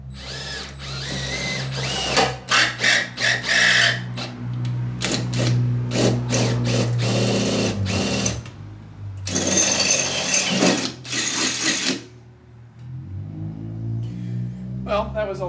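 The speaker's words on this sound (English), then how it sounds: "last thing I'll try is drilling a hole." A power drill bores a hole in a hood-lift part of a 1990 Mazda Miata, running in short, loud bursts with brief pauses between them and a stretch of steadier drilling, alongside some voices.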